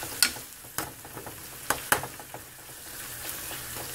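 Onion and tomato masala being stirred in a frying pan for egg masala, with a steady sizzle broken by several sharp scraping clicks of the spoon against the pan, close and fairly loud with no talk.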